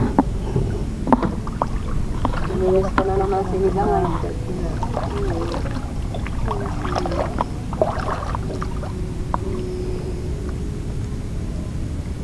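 A fishing boat motors on the sea at dawn, its steady engine drone and water wash running throughout, with people talking over it nearby.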